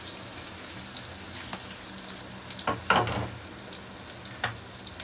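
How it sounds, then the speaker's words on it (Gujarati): Onions added to a pan after garlic, for vaseti ni bhaji, sizzle softly and steadily, with a couple of louder crackling bursts and clinks from stirring near the middle. "લસણ પછી હવે આપણે એમાં ડુંગળી એડ કરશું."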